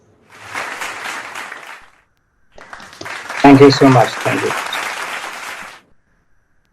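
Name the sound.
audience applause after a fireside chat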